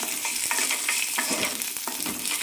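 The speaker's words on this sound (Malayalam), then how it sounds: "രണ്ട് ടേബിൾ സ്പൂൺ തേങ്ങ ഇടാം നന്നായി മിക്സ് ചെയ്യാം" Grated coconut, two tablespoons, is stirred into a hot pan with peanuts and flattened rice just after the flame goes off, making a close, steady dry sizzle with frequent scraping strokes of a spoon.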